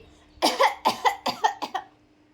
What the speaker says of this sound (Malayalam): അമ്മ എങ്ങനെ ചുമക്കണ